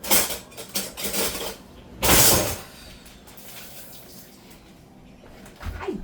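Kitchen utensils clatter and clink in short bursts as a drawer of cooking tools is rummaged for a spatula, with a louder metallic jangle midway and then quieter handling.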